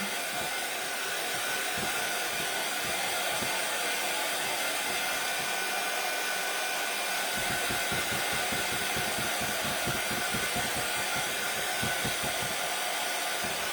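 A handheld hair dryer blows hot air to dry paint on a Christmas craft piece, a loud, constant whooshing roar that runs unbroken for the whole stretch with no voices over it.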